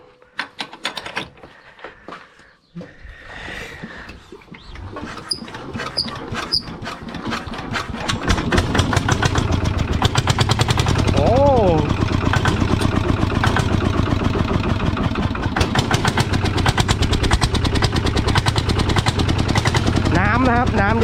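Quiet rustling and brief voices give way to a tractor engine firing up, then a loud, rapid, throaty rattle from its racing exhaust pipe running steadily to the end.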